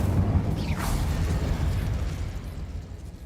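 An Incendio fire spell cast in Hogwarts Legacy, a loud fiery burst with a quick whooshing sweep early on, then a rumbling roar that fades over a few seconds.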